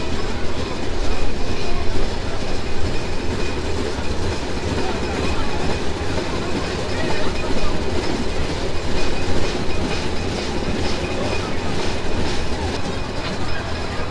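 Ruposhi Bangla Express passenger train running near Narail railway station in Bangladesh, a loud continuous roar with rhythmic clickety-clack of wheels over rail joints throughout.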